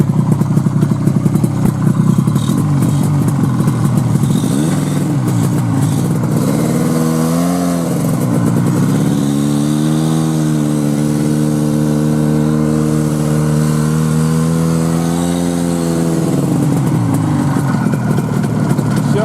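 A Buran snowmobile driving off on a taiga road: a loud, close engine rising from idle into a sustained revving drone with shifting pitch, clattering slightly, then settling back down.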